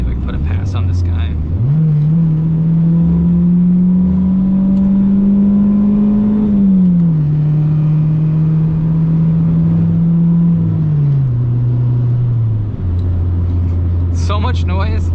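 A small car's engine drones loudly while driving, climbing as it revs up, holding high for several seconds, then dropping back toward idle, with strained, effortful revving and little sense of pickup.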